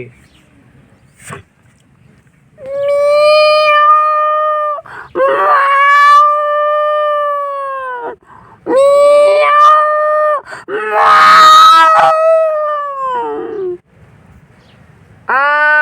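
A voice imitates a wild cat's call in a series of drawn-out, wavering, tonal wails, about four long cries with short breaks between them, loud and close.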